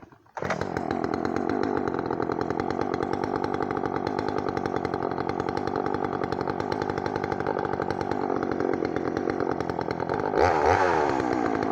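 A Poulan 3300 (Craftsman 3.3) chainsaw with a freshly filed, rather loose chain fires up and runs at a loud, steady buzzing idle close by. It revs briefly higher near the end.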